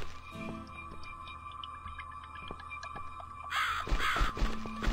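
A crow caws in a horror adventure game, a few rough calls over a steady droning ambient background with small clicking sounds, and the noise swells toward the end.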